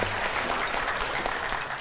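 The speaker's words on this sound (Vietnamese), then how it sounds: "xin cho bạn nam một tràng pháo tay ạ." A studio audience on a Vietnamese dating show claps briefly for a male contestant, a short burst of dense, even applause at moderate volume.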